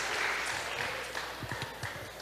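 Crowd applause at a Wisconsin campaign rally, a broad wash of clapping and cheering that slowly fades, heard at a moderate distance with a few louder thumps near the end.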